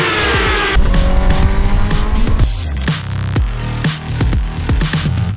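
A Honda Fireblade 2020 race motorcycle from the TSR FCC Honda France endurance team at full speed on the Qatar circuit, its engine loud and close, screaming through rising revs with sharp gear changes and throttle bursts.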